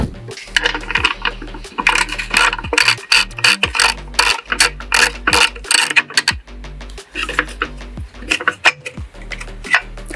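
A hand tool clicks and ratchets rapidly to undo the bolts holding the horn on an Audi RS5, with bursts of close, loud mechanical clatter separated by short pauses and occasional metallic taps.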